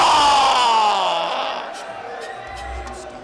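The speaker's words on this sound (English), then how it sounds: "An unbelievable cheer there for Nigel" A crowd at a fight event cheers and whoops for fighter Nigel as he is welcomed to the red corner, loud at first and then fading, with voices mixed into the roar.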